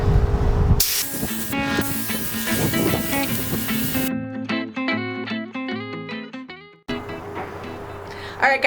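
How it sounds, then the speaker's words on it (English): Bursts of hissing spray paint on a table come from close by, broken by a stretch where only background music plays before the spraying resumes. "we need to go ahead and spray here"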